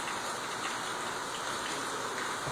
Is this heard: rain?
yes